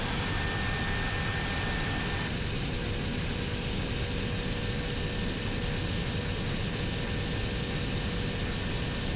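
Steady, loud drone of a single-engine turboprop aircraft in level cruise on autopilot, a continuous broadband roar with a faint whine, unbroken and without speech throughout.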